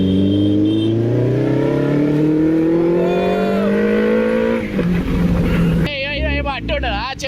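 A motorbike on a Rapido ride revs hard, its engine pitch climbing steadily as it accelerates and then dropping off, loud and close with wind rush and voices talking over it.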